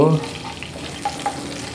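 A tempering fries in oil in a pan before moringa leaves go in, a close, steady sizzle with a brief louder opening and a few small crackles and pops.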